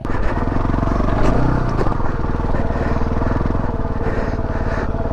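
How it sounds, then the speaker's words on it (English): A Beta trail motorcycle labours off-road on a chalk green lane in Surrey, its engine droning loud and steady with the clutch slipping, plus a few scrapes and clatters along the way. "Slipping the clutch like crazy."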